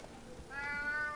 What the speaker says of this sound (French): Petit chat.